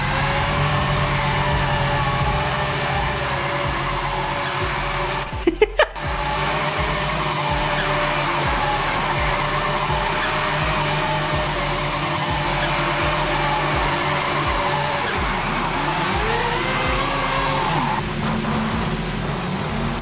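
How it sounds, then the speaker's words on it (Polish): A Nissan Silvia fitted with a racing rotary engine in Forza Horizon 5 drones loudly and steadily throughout, with a short sharp burst near the middle and pitch sweeps toward the end. "To brzmi jak wyścigówka."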